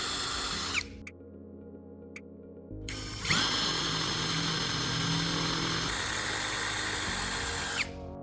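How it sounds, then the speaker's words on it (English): A power drill bores a hole in the plastic casing of a Samsung phone charger: a loud, close, whining motor runs, stops for two seconds with faint ticks, then revs up again and continues steadily until cutting off near the end. "I drill a hole in the casing to securely mount the welding tip."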